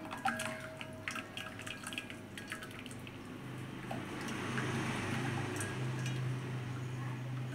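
Boiled sabudana (sago pearls) being drained through a sieve: water drips and trickles at first, then swells into a steady, fuller rush of pouring liquid for the second half.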